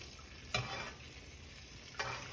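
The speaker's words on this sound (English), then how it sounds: "The butter gets brown and a little nutty as it starts to caramelize the sugars in the butter." Butter sizzles steadily in a pan while a pan-seared ribeye steak is basted, with two sharp spoon scrapes or splashes cutting through the constant frying hiss.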